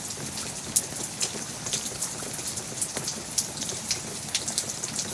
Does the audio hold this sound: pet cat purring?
no